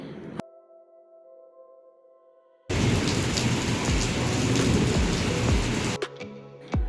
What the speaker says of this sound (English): it's raining outside and I really love it